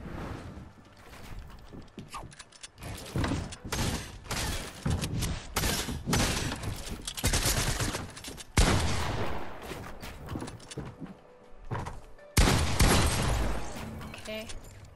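Rapid video game gunfire in Fortnite, with repeated bursts of sharp shots and heavy volleys coming close and loud through most of the stretch, mixed with game effects.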